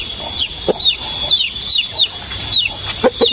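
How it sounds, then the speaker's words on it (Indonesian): Several chickens cluck in short, scattered bursts close by, with high chirping calls layered over a busy outdoor background. "Kayak ayam nih kok, banyak ayam"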